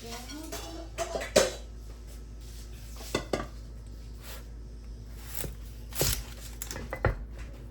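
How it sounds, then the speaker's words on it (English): A kitchen knife cuts a red onion for pickling: a few sharp taps and crunches on the board, scattered irregularly and close, with soft handling noises between them. "Now I will cut the onion."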